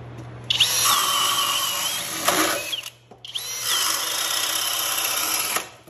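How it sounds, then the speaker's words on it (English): A Flex brushless turbo drill boring through wood, two loud sustained whining bursts of the motor with a brief pause between, close up and with no talk. "Flex, brushless, this is their king of the drills."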